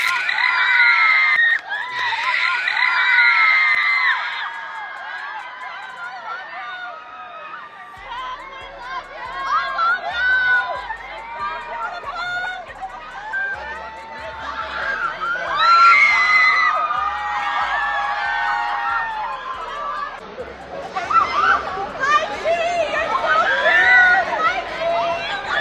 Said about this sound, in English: you could clearly see Chicago was completely overwhelmed by all the people screaming and taking photos